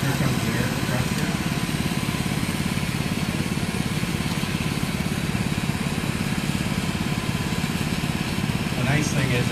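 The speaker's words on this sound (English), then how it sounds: "Here comes the air compressor." An air compressor arriving and running; a continuous, even mechanical engine drone holds steady at moderate loudness throughout, with people talking over it.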